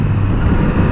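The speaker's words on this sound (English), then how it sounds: "Lovely smooth engine" Kawasaki Z900RS motorcycle engine running smoothly, a steady low rumble with heavy wind buffeting over it for a brief moment.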